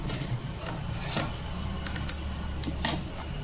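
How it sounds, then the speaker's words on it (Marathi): An electric sewing machine tack-stitches the zipper onto a princess-style piped blouse. It hums steadily and close, with faint rhythmic needle ticks and small clicks running throughout at a low, even level. "इथं शिलाई टॅक करून घ्यायची हे बघ."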